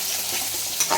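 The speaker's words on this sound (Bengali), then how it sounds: "এবার এটাকে ভালো করে কষিয়ে" Spiced ingredients being sautéed and stirred in a pan with a steady sizzle and scraping stir, close and fairly loud, with no talking.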